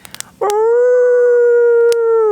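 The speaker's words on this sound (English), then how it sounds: "I get awakened by a howl." A single loud, close animal howl in the woods at night rises out of near silence and holds a long, steady, slightly wavering tone for nearly two seconds after a few faint clicks.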